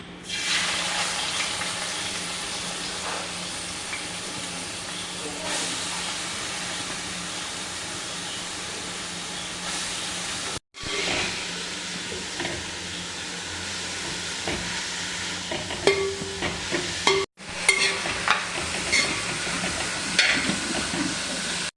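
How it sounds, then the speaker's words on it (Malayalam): Onions frying in hot oil in an indalium pot for a kappa biryani masala, a steady close hiss and sputter that runs on at an even level, with two brief cuts and some louder crackles near the end. "എണ്ണ ചൂടായി വന്നിട്ടുണ്ട്. നമുക്ക് എടുത്ത് വെച്ചേക്കുന്ന മസാലയ്ക്കുള്ള സവാള ആദ്യം ഇട്ട് കൊടുക്കാം."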